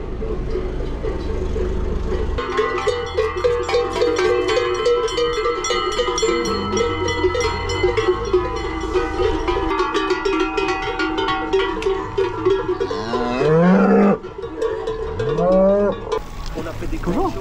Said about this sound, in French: Des vaches en vrai.